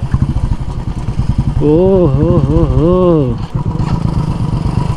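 A motorcycle ridden off-road up a rough trail to Mount Harriet near Port Blair in the Andaman Islands, its engine chugging steadily close by, with a rider's voice talking over it.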